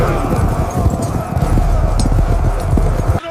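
Horses and chariots charging into the parted sea, a galloping clip-clop of many hooves under a rumbling roar, loud and continuous with a brief neigh, set beneath a narrator's voice.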